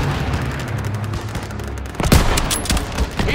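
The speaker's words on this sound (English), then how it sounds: "Firing." Gunfire crackles in a World War II combat game, with scattered distant shots giving way to a loud burst of rapid rifle and machine-gun fire and booms in the second half.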